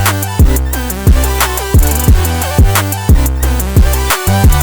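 Digicore beat built from stock FL Studio sounds, with a punchy kick sidechained against a bass pluck and melody, giving a pumping, ducking groove that repeats roughly every half second, loud and dense with no voices.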